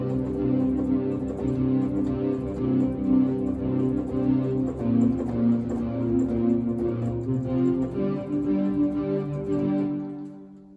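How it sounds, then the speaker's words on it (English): A simple programmed beat from a Yamaha SY99 synthesizer's sequencer plays steadily and fairly loud throughout, with dense layered tones and a regular rhythmic pulse, fading at the very end with no talking. "The beat will kind of sound like this."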